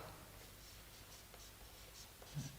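Chalk or marker scratches out an equation on a board in a physics lesson, quiet short strokes tapping and sliding in a soft irregular rhythm, heard alone with no talk.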